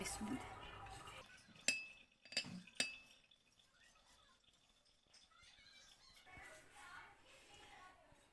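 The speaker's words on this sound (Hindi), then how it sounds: "हम स्पाइसेस अच्छे से ऐड कर लेंगे, इनको मिक्स करेंगे" Spices added to a bowl and mixed for a salmon marinade, several sharp clinks and taps of a spoon against the bowl early on, then quieter faint scraping and rustling.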